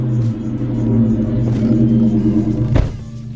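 A car engine runs with a steady low rumble, a brief crank-like burst near the end as it catches and idles on, close by with no talk.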